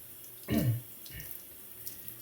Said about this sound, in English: set off the razors to the side and flip the stone. Just rinse off some of the swarf.